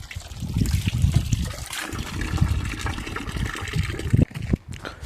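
Water pours steadily from a pipe at a hill viewpoint along the way to Abbey Falls in Coorg, a continuous close splashing rush with a brief drop near the end.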